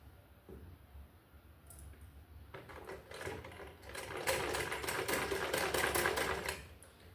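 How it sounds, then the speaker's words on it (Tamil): An electric sewing machine stitches nighty fabric for a six-panel anarkali dress. Its rapid, steady mechanical whirr starts a few seconds in and grows louder, running continuously to near the end with no talking. "நீங்கள் பேக் தனியாக ஃப்ரண்ட் தனியாக கூட நீங்கள் ஸ்டிச் பண்ணிக்கலாம்."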